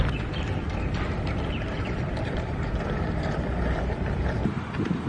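Remote-control fishing bait boat with two motors running on water, a steady continuous churning and whirring noise filling the whole stretch, close and fairly loud with broadband water and wind noise, no voices.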